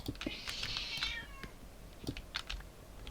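A house cat gives one drawn-out, wavering meow close by, followed by scattered computer keyboard typing clicks.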